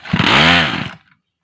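A small two-stroke NB411 brush cutter engine is pulled and briefly roars to a loud, buzzing rev before cutting out abruptly.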